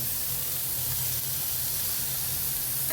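Tomato sizzling in hot coconut oil for an egg curry, a steady dense hiss and spatter close up, constant and loud with no talking.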